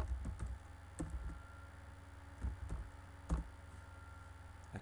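Sparse typing on a computer keyboard, a few soft key clicks and short bursts with pauses between them, over a low steady hum.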